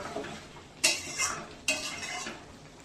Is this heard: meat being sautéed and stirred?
yes